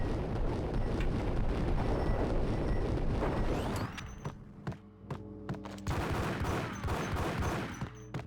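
Gunfire in the video game Max Payne: a dense, loud fusillade of overlapping shots gives way to sharp, separate bursts and single blasts with brief gaps, then another heavy volley.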